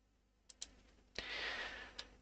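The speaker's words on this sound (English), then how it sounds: "Don't forget to click save." A computer mouse clicks during work on a Copilot chatbot: two quick soft clicks, a brief breathy rustle, then one more click, all faint in a quiet room.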